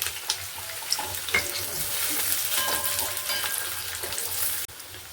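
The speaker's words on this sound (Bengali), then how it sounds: "এবার আমি দিয়ে দেবো এর মধ্যে পেঁয়াজ" Chopped onion sizzles loudly in a hot pan for cauliflower rezala, a steady close hiss with scattered scrapes and clinks of stirring, cutting off abruptly near the end.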